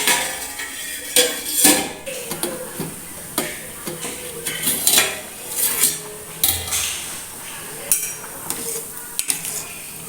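Pasta stirred in a metal pot and covered with a lid: irregular scraping clatter, spoon knocks and metallic clanks, fairly close and loud, with faint sizzling underneath.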